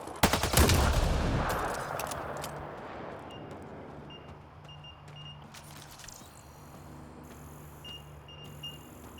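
Gunfire in the video game Mass Effect: Andromeda: a loud burst of rapid shots at the start that fades into a low rumble, with scattered electronic beeps and tones following.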